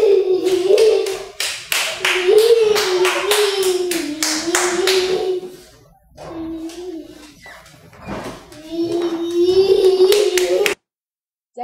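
A young boy claps his hands as a repetitive stimming behavior, bursts of rapid sharp claps close by, interspersed with his own sustained high vocalizing and brief pauses.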